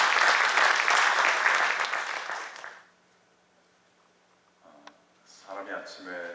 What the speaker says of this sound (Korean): 우리 감사합니다, 고맙습니다 마음으로 박수로 한번 환영해 주시겠습니다